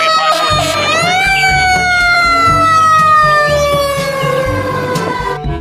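A toy fire truck siren wails loudly and steadily, its rising then slowly falling electronic tone repeating over a rhythmic low rumble of toy engine noise.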